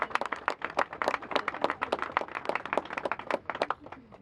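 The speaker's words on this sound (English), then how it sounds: "give him a round of applause" Audience applause at a public address by a family after a court ruling, a moderate mix of individual claps, fairly close, continuing steadily for a few seconds.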